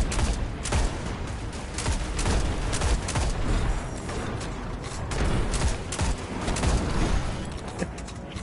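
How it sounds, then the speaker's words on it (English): Rapid bursts of gunfire from a rifle in Destiny: Rise of Iron, a dense stream of sharp shots in quick succession with a few brief pauses, close and loud, no voices. "Behold the power of my cheese rifle."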